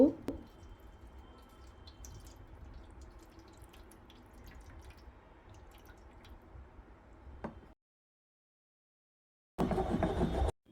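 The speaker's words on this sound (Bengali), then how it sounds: "প্রথমে আমি গোপুসোনাকে স্নান করিয়ে নেব" Water is poured over a Gopal idol during an Akshaya Tritiya puja, trickling and dripping steadily for about seven seconds. It stops into silence, then a short, louder burst of other noise follows.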